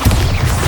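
Bombarda blasting spell exploding in Hogwarts Legacy, a short, loud, close burst with a deep booming rumble that fills the whole moment.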